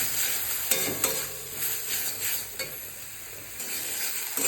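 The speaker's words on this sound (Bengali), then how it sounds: "মশলাটা কষানো হয়ে গেছে, এরপর আমি দেবো টমেটো।" Spice paste for a tangra fish curry stir-fried in hot oil, giving a steady close sizzle with occasional scraping stirs of the spatula against the pan.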